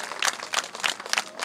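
Crowd claps rhythmically at a village wedding celebration in Nduba, Rwanda, with bursts of hand claps pulsing in a steady beat, close and fairly loud.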